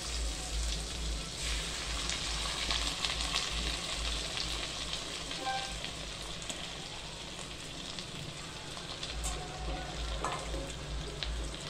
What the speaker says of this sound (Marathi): ह्या तुपामध्ये आपण आता ही लापशी चांगली लालसर भाजून घेणार आहे